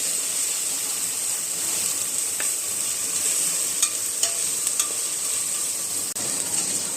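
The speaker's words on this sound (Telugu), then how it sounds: "దీంట్లో ఇప్పుడు అల్లం వెల్లిపాయ పేస్ట్ వేయండి ఇదిగోండి దీన్ని బాగా వేపండి" Ginger garlic paste frying in hot oil while being stirred, a steady close sizzle with scattered scraping clicks from the spoon, and no talking.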